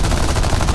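Aircraft machine guns fire during an air battle in War Thunder, a dense continuous roar of rapid shots, loud and close, lasting under a second with no talking.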